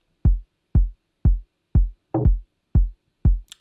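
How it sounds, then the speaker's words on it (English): Lo-fi sampler kick drum on a Digitakt, seven deep, punchy thumps at an even pace with quick decay, one hit carrying a slightly brighter layered attack. "This is really an ordinary kick sound from a lo-fi sampler"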